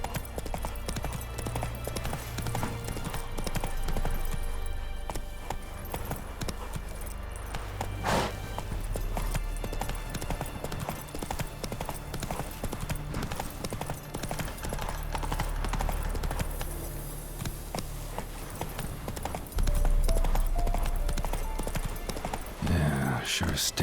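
Roach, a horse in The Witcher 3, running in a steady galloping clip-clop of hooves throughout, with a brief whinny, set over a low music and ambience bed, with some speech-like sound present.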